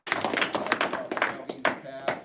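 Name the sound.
hand clapping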